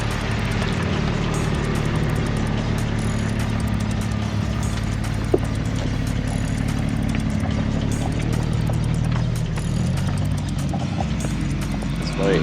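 A Suzuki Samurai off-road vehicle grinds up a rough hill-climb trail. Its engine drones steadily and loudly from start to finish, with rumbling mechanical noise and a few knocks from the rocky ground. No one speaks.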